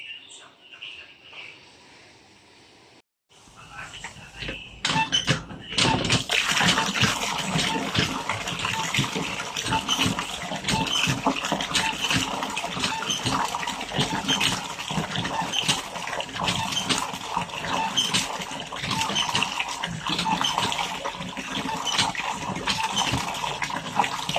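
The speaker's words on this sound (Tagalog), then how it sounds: "So, ayan, banlaw po muna tayo." Colored laundry rinsed by hand in water at home: after a quieter start, loud continuous splashing and sloshing with gushes of water fill the rest, with occasional voices underneath.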